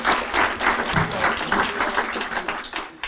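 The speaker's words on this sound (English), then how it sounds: "Let's give all of them a round of applause." An audience at an educator of the year awards ceremony gives officials a steady round of applause, with dense clapping that fills the room evenly from start to finish.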